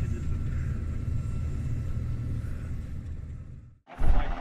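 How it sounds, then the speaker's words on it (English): Black Hawk helicopter with a transmission failure setting down on a road, a loud, steady low rotor and engine rumble that briefly cuts out near the end, then returns. "A Black Hawk helicopter had to land on the road following a transmission failure."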